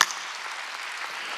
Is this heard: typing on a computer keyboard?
no